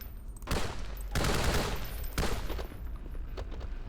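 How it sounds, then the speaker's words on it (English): AK-47 rifle fire in the video game Hunt Down The Freeman: several sustained bursts of rapid automatic shots, loud and close, separated by short gaps, with no talking. "Pretty sure this is a standard AK-47 and not an AKM"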